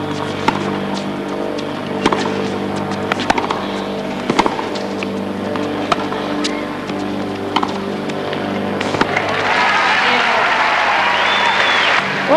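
Tennis crowd at the 1994 Lipton championship match between Steffi Graf and Natasha Zvereva, scattered claps under a steady arena hum that swell into a broader wash of applause near the end.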